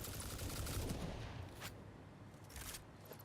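Turbo ammo gunfire crackles in the video game Satisfactory as rapid, faint bursts of shots over steady background noise, with no speech.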